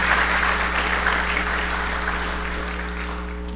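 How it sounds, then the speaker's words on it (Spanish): A congregation at a Sunday church service applauds welcomed visitors: dense, steady clapping from many hands that fills the room and slowly eases, with a low hum underneath. "un aplauso para ellos"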